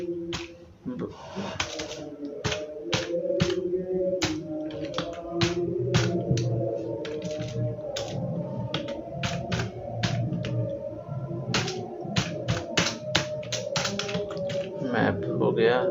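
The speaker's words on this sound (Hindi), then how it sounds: "अरे यार ये मेरा कीबोर्ड ना, एक तो इसका L नहीं वर्क करता है" Rapid keystrokes on a computer keyboard, a faulty one with a dead L key, clatter in irregular bursts throughout while someone speaks over them during coding practice.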